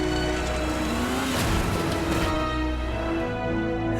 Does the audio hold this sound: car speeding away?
yes